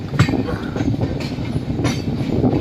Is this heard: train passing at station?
yes